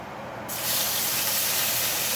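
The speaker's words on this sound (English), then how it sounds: "I'm just going to let these shrimp cook for about a minute" Shrimp sizzling in canola oil in a Calphalon wok for a stir-fry, a steady hiss that swells loud after a quiet start and holds continuous and close, with no talking.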